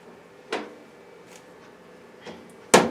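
The door of a Gourmia GTF7460 air fryer oven shuts with a sharp close-up knock near the end, after a softer thud and light handling clicks in a quiet kitchen.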